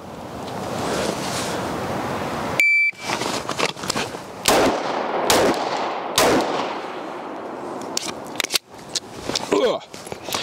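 Gunshots fired at cardboard targets during a hostage rescue drill ring out as a series of sharp, loud cracks in irregular bursts, some close together, over steady wind-like background noise.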